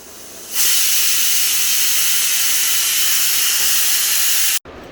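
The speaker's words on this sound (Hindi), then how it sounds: "एक नए दिन की शुरुआत कुकर की सीटियों के साथ" Loud, steady hiss of steam jets from a kitchen pressure cooker whistle early in the morning, starting abruptly and holding broad and close for about four seconds before cutting off sharply.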